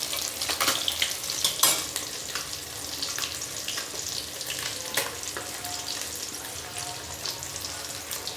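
Fish coated in onion, turmeric, salt, chili and masala sizzle steadily in a hot pan, a loud continuous frying hiss with occasional pops and stirring scrapes.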